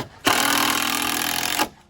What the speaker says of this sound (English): we're drilling things and sawing things